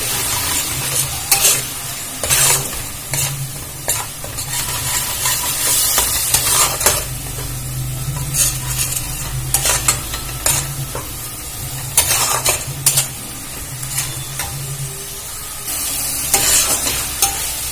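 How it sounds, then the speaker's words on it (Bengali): Spice paste with turmeric and a splash of water is stir-fried in a pan, giving a constant sizzle and frequent scraping stirs of a spoon against the metal, close and busy throughout. "এবারে একটু জল দিয়ে দেব যাতে মশলাটা পুড়ে না যায়। একটু জল দিয়ে কষিয়ে নেব।"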